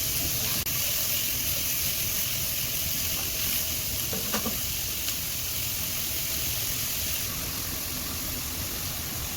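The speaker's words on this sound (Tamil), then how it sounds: "அந்த கேரட்டையும் நீங்கள் ஆட் பண்ணி நல்லா சாட் பண்ணுங்கள்." Carrot and other vegetables sauté in a hot pan for restaurant-style mixed fried rice, giving a steady, loud, continuous sizzle and hiss with faint stirring scrapes and no voices.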